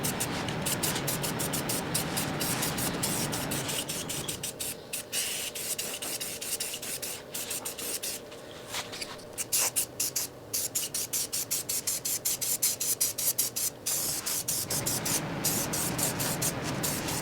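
Spray paint hissing onto a homemade wedge lift for an Eastonmade 22-28 splitter, a steady close spray broken by short stops and restarts near the end.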